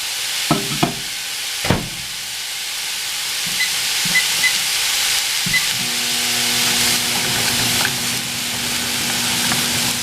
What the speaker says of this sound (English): I'm just going to saute it.